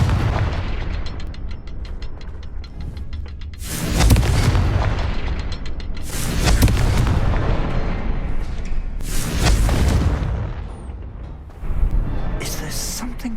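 The Confringo fire spell goes off repeatedly in the video game Hogwarts Legacy, with four loud booming blasts at roughly even intervals, each rolling out into a rumbling tail.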